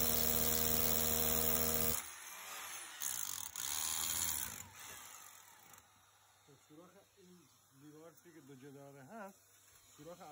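A power drill bores a hole through a wall to fit an air conditioner, a loud whining buzz for about two seconds, then quieter intermittent mechanical noise as someone talks.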